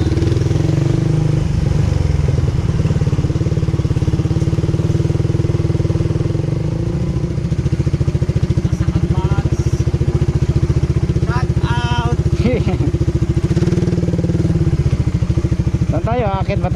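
A motorcycle engine runs steadily throughout with a low, continuous drone, and people talk over it in the second half.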